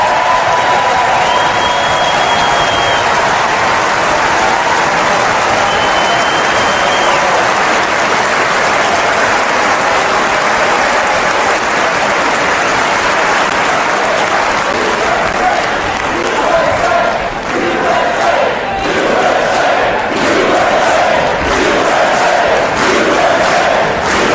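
Lawmakers in the Congress chamber give a long, loud ovation during a political speech, sustained clapping swelling with cheers and crowd voices, rising into sharper bursts toward the end.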